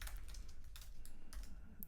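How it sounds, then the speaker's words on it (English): Someone types on a computer keyboard in a quick, slightly uneven run of clicks while writing a PHP file on a macOS setup, close and clear with no talk over it. "You have to excuse my horrifically arthritic typing."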